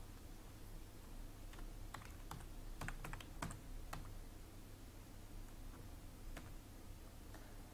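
Typing on a computer keyboard, with close, irregular key clicks in quick clusters and short pauses over a faint steady room hum.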